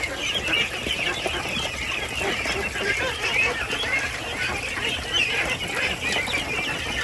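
Around two hundred female ducks crowd a backyard pen, quacking loudly and constantly at close range. Their calls overlap into a dense, noisy chorus.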